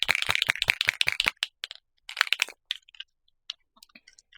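A bottle of Couture Creations baby pink glitter alcohol ink is shaken hard, giving a quick burst of close rattling clicks, then a few scattered, sparser taps and rattles as it slows and stops.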